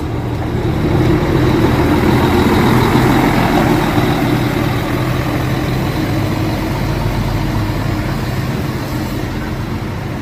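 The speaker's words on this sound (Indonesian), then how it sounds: "Ini penampakan bus Karina jurusan Jakarta Sumenep double decker." Karina Jakarta–Sumenep double-decker bus idling at Pamekasan bus terminal, a steady low diesel rumble close by with constant engine drone and no talk.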